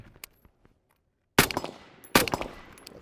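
Rapid gunshots fired through shooting ports during a drill, with two sharp, loud reports about a second apart, each trailing off in a ringing echo, after fainter earlier clicks and no talking.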